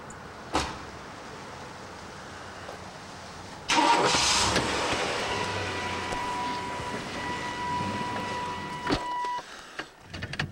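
A new truck's engine cranks and starts after a door thud, catching with a loud burst and then settling into a steady idle with a faint whine, followed by a few clunks near the end.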